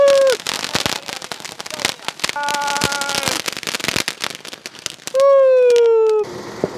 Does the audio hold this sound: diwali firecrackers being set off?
yes